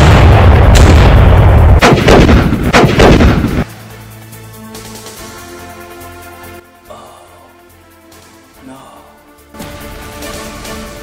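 Booming cannon blasts, several heavy shots in quick succession at the start, loud and close, followed by quieter rumbling and clatter.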